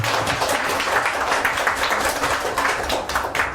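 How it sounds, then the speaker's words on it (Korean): An audience at a youth seminar applauds to welcome a research fellow being introduced, dense, even clapping filling the room without pause. "큰 박수 부탁드리겠습니다."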